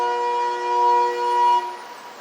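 Amtrak train horn sounding in Schenectady, New York, one sustained steady chord that holds for about a second and a half before dropping away, heard alone at moderate distance.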